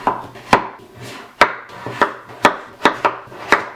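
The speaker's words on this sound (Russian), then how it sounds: "Нарезаем на небольшие кусочки." A knife chops firmly through pumpkin on a wooden board, cutting it into small pieces, about eight sharp thuds at an uneven pace, close and clear.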